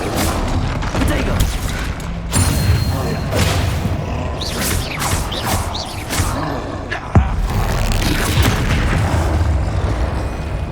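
Bombarda and Confringo blasting spells fired in Hogwarts Legacy, a run of booming impacts and whooshes spread across the scene, loud and close, with voices shouting over the combat.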